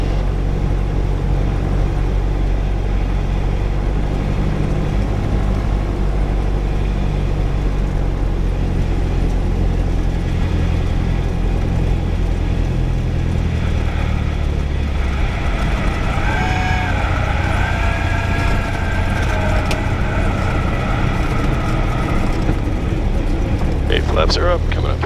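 A light aircraft engine drones loud and steady during a circuit flight, its pitch shifting as power comes up, with cockpit voices talking over it throughout.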